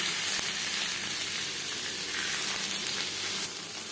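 Bhetki fish paturi cooking on an iron tawa over a high flame, giving a steady, close sizzle and hiss that runs unbroken without any voices.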